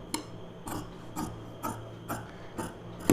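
Scissors cutting a V-shaped neckline into blouse fabric, a series of about six crisp snipping crunches in a steady rhythm, close and fairly quiet with no talking.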